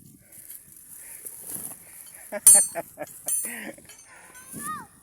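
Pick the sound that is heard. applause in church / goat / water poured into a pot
goat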